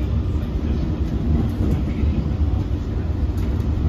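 An LIRR Cannonball train rides from Penn Station toward Montauk, heard from inside the car as a steady, loud low rumble of wheels and rails with faint clicks running through the whole stretch.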